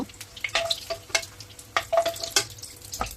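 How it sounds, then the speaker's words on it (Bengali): Chopped onions sizzle in hot oil with sharp crackling bursts and scraping stirs, close up and fairly loud, with no talking. "এখানে আমি এই তেলের মধ্যেই পেঁয়াজ কুচি দিয়ে দিলাম"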